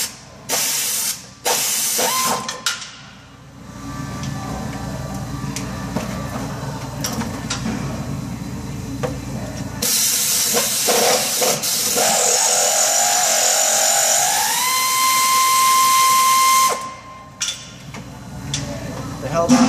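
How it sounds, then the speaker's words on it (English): A 3/8 drive air ratchet with an 18mm shallow socket spins off control arm bolts on a 2011 Ram pickup in a shop, loud hissing bursts of compressed air with pauses between, close up and no voices. "Take your 3/8 drive air ratchet and an 18mm shallow socket."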